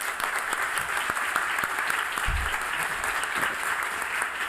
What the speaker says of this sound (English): Give an applause for Brent.